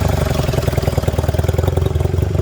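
A 1965 Honda Dream Benly 150 motorcycle idles close by with a loud, throaty, steady rhythmic putter from its small engine, heard alone.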